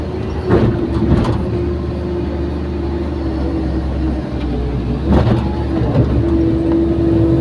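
A semi-trailer truck engine strains under a heavy load of about seven tons with the throttle pressed to the floor, a loud, steady, close diesel roar with small surges and no talking.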